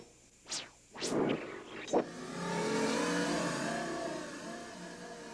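A few quick whooshing swells lead into a revving motorcycle-like drone from a Prophet-5 synthesizer that holds steady, an artificial engine sound with no talking.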